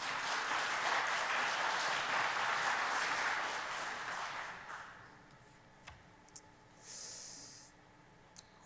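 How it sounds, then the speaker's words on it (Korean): A church congregation applauds loudly for several seconds after a choir performance, then the clapping fades out, leaving near quiet with a few small clicks. "다시 한번 힘차게 박수합시다."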